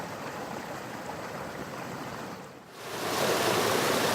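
A small mountain waterfall gives off a steady, broad rushing roar up close, briefly dipping before swelling louder again, with no voices.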